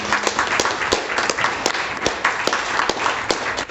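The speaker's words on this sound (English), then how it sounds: "let's give a round of applause to Adrian" A short round of clapping from a meetup crowd at a data and AI tech talk, moderately loud and scattered with distinct sharp claps, fading toward the end.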